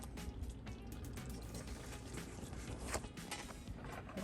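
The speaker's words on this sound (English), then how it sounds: "I'm pouring this caramel sauce directly onto this bread pudding." Caramel sauce poured over pumpkin bread pudding gives a soft, steady liquid pouring and splattering sound, close up and continuous, with no talking.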